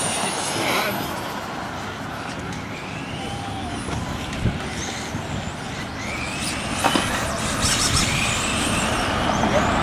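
RC touring cars in a 17.5 class race around a track, a dense whine of small electric motors rising and falling as they pass, with faint high sweeping tones and a constant busy background.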